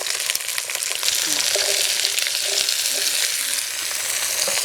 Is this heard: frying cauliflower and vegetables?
yes